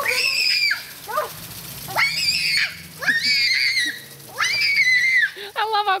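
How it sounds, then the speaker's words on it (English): A young girl screams in repeated high-pitched bursts while running through a garden sprinkler, four or five long shrieks separated by short pauses, with a quick breathy squeal at the end. "I love how girls scream."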